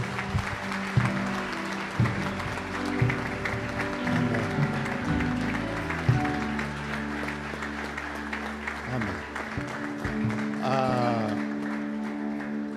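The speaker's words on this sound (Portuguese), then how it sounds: "Paz do Senhor e as palmas que glorificam a Deus" A church congregation applauds in praise at a Brazilian pastor's installation service, steady clapping mixed with voices and sustained tones, ending with a brief instrumental flourish.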